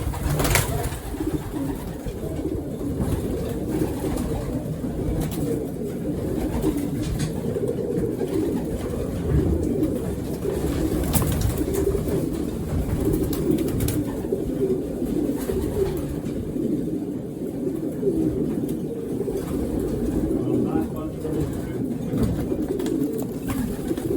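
Racing pigeons coo steadily inside a loft, a dense, continuous murmur of soft calls with occasional wing flutters, close and fairly loud with no talking.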